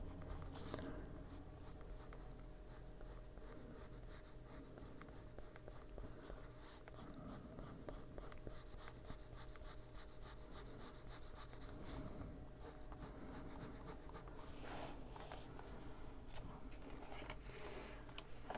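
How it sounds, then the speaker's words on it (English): A colored pencil is pressed hard against paper while coloring, giving a continuous, close, dry scratching with quick back-and-forth strokes, faint and steady throughout, with no voices. "So just kind of pushing more pressure on that pencil."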